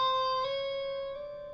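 Sustained guitar notes slowed down, a held tone that bends slightly upward partway through, with rich steady harmonics, moderately loud and alone.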